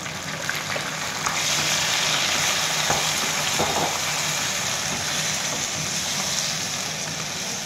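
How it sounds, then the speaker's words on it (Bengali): Marinated chicken hits a pan of already-fried onions, setting off a steady broadband sizzle that holds at an even level throughout, with a few faint clinks of utensils near the start. "এখন আমি ম্যারিনেট করে যে চিকেনটা রেখেছিলাম সেটা দিয়ে দেব।"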